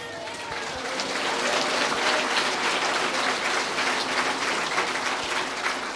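A church congregation applauds. A faint murmur swells after a second into sustained, hissing clapping from many hands that stays steady to the end.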